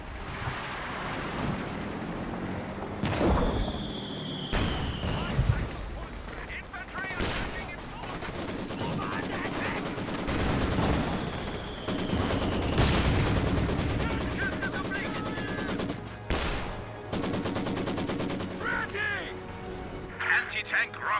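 Dense gunfire in a wartime strategy video game: repeated rifle and machine-gun bursts and heavier booms rolling over the whole stretch at moderate level, with game voice callouts and someone talking over it.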